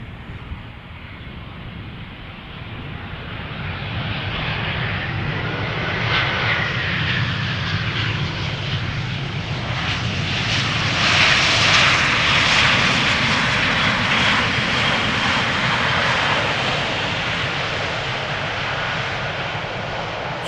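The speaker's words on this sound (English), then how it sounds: "from Milan, ITA Airways flight 120." An ITA Airways airliner on flight 120 from Milan, about 13 years old, arrives at Schiphol Airport, a loud, close jet engine roar that builds toward the middle and stays strong and continuous throughout.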